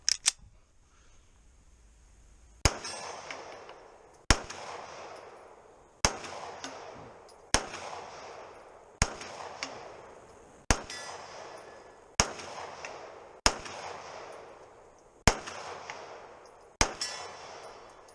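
A Springfield XDM Elite 9mm pistol fires about ten shots at a steady pace, each sharp crack followed by a ringing clang of steel targets, outdoors with no talking between.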